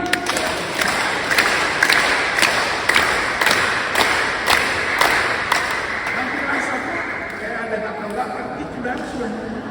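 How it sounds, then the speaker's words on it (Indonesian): A church congregation at an Indonesian sermon claps in unison about ten times, sharp regular beats over a crowd murmur, followed by looser scattered applause and voices. "Tepuk tangan 10 kali."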